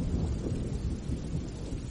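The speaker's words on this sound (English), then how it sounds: "I have a light, rolling thunderstorm for you in the background to help you sleep." Light, rolling thunderstorm with steady rain and low, continuous thunder rumble, even and moderately loud with no voices.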